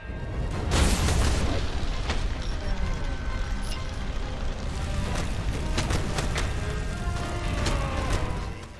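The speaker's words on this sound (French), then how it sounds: "Il me lance un missile dessus." A missile explosion striking a shield in the LEGO Marvel's Avengers video game booms loudly, then sustained rumbling, clattering game effects and sharp metallic hits continue throughout.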